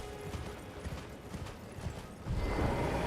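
Horse hooves clip-clopping at a steady gallop in the Elden Ring video game, continuous and fairly close, with the rhythm growing louder and denser near the end.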